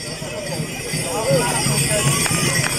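Horse hooves clip-clopping at a steady trot as a trained pair of horses performs at the festival of the Madonna di Bonaria in Olbia, with a voice talking over them and crowd noise in the background.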